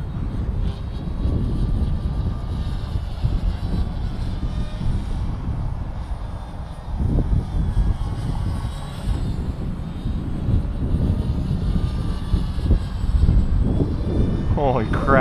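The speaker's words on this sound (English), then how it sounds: "This is like the fastest heli I own." A Gaui X2 RC helicopter flies fast into the wind, its rotor and motor a continuous loud whine with gusting wind noise and shifting pitch as it passes.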